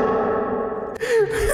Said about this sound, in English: With reverb on, boys!